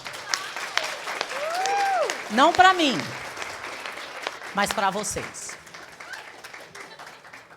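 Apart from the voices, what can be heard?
audience applause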